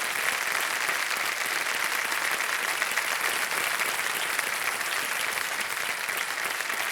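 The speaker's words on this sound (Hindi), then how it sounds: "तालियां बज जाए इसके लिए।" A studio audience on the game show Kaun Banega Crorepati applauds steadily and loudly, a dense unbroken wash of clapping lasting several seconds.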